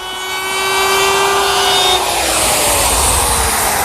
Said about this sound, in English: Now we'll flip it over and round over the underside.